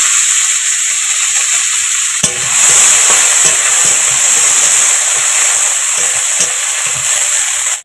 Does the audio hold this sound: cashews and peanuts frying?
yes